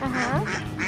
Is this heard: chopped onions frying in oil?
no